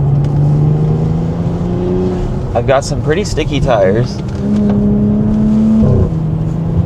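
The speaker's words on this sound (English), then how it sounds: "You can hear it boosting up all day." Modified Audi SQ5 in sport mode on 21-by-10 wheels, its engine droning and building boost steadily under a man's close, continuous talk, with a rising whir through the middle.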